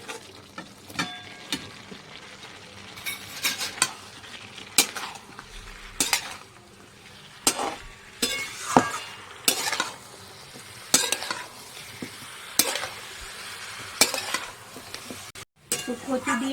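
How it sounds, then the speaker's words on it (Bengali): Spice paste with taro stirred and fried in a pan, with a low sizzle beneath regular loud scrapes and clinks of a spoon on metal, close and rhythmic with short pauses between strokes. "আমার মশলাটা সুন্দর করে নাড়ানো হয়ে গেছে"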